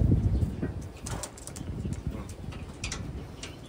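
Young pigeons from a breeder's loft coo softly and repeatedly, low murmuring calls layered with occasional wing rustles, close by and steady throughout.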